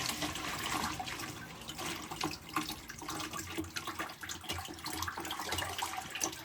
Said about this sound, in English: we'll just fill this up with some water.